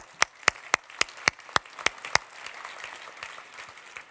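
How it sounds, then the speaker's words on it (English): A few pairs of hands clap for guests at a political launch event, eight sharp, evenly spaced claps up close, then softer scattered claps trailing off. "a round of applause, first of all"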